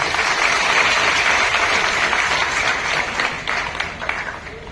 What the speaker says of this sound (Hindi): आप सबका श्रीनगर में जोरदार तालियों के साथ स्वागत है।